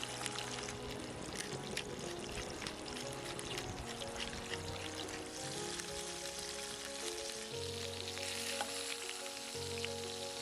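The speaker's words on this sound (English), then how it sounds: "Season the pieces of lamb as they're browned all over in the fat of your choice." Lamb pieces browning in hot fat in a pan, with a steady, dense sizzle and crackle running throughout at close range, with no one speaking.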